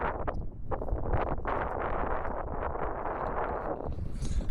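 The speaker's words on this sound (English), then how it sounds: "Too much wind over there, so I had to go up." Wind buffets and roars across a microphone outdoors in Azerbaijan, in loud uneven gusts that continue with no pause.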